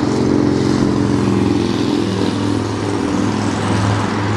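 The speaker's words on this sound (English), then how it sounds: "Motorcycle." A motorcycle engine runs loud and close, a continuous rough rumble with slight rises in revving and a clattery texture throughout.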